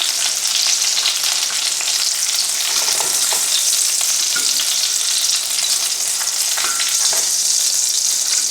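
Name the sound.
pork chops frying in oil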